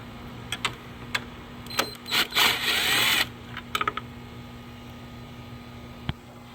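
Ratchet and metal clicks from removing 10 mm bolts and a nut on the PCM bracket of a Hyundai Veloster 1.6L, a few sharp taps followed by a louder burst of tool whirring and scattered clinks, with a steady hum underneath.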